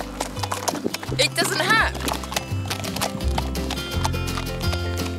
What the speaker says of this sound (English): But I'm galloping on a horse right now